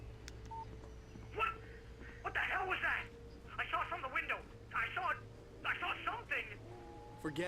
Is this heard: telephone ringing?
yes